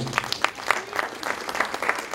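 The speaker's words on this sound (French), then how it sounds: "Pas trop d'applaudissements pour elle" A small audience gives scattered, sparse clapping to a jury member, an operetta singer, at a French stage event: a few distinct hand claps in an uneven rhythm, moderately near, with no talk over them.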